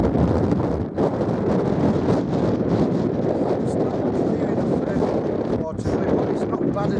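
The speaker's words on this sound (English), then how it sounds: "Very windy." Strong wind roars steadily across a microphone on the exposed hilltop of Black Combe in South West Cumbria, a constant loud buffeting rush.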